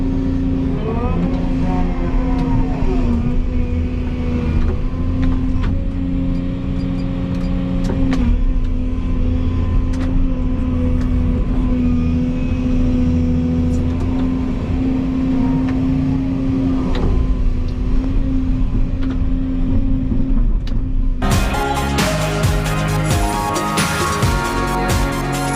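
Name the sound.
car driving out of a pit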